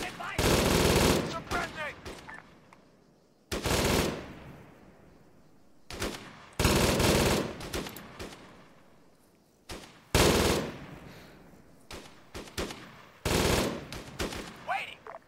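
An AI squad in the military game ArmA lays down suppressing fire: repeated loud bursts of automatic gunfire in several clusters, each trailing into echoing reverberation, with gaps between bursts.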